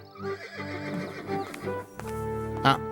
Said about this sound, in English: You have bought the finest horse in my stable.